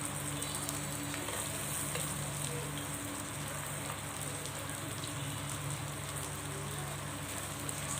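Steady, dense sizzling of pork cooking on a hot Thai tabletop grill, a constant crackling hiss with no pauses and no talking.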